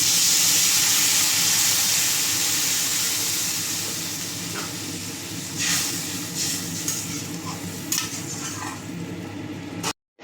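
Water poured into a hot pan of turmeric and whole green chillies for a prawn and elephant apple sour curry gives a loud, steady sizzling hiss that slowly tapers. A few light utensil clinks sound before it cuts off abruptly.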